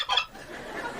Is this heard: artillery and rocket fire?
no